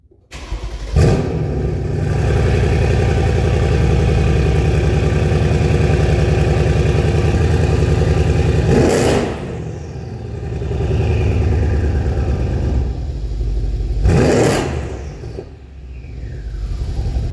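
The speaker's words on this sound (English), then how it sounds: "The turbo spool from behind is crazy, even just at idle" A turbocharged car engine idling at a cold start, with a loud, steady low rumble and turbo whistle close by. A few sharp bursts and revving swells break the idle, and no one speaks.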